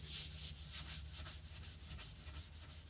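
Sandpaper rubbed over stained and painted wood, a soft continuous scratchy rasp with quick back-and-forth strokes, close but quiet and alone.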